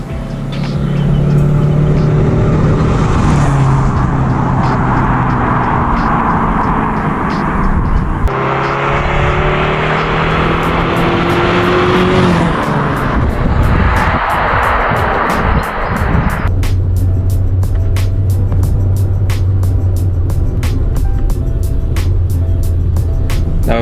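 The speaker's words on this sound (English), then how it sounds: "it is time to take the car out for a drive and see how it performs." A Mazda MX-5 with new brakes and Tein coilovers driving on a road, its engine droning steadily from inside the car with rising and falling revs as it shifts gears and accelerates.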